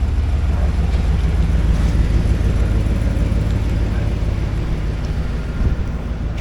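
A car rolls along neighborhood streets on a custom-length driveshaft cut down in size, giving a loud, constant low rumble with wind buffeting and road noise throughout.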